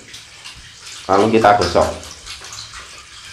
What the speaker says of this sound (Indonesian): air mengalir kita curahkan di bagian dalam ikan,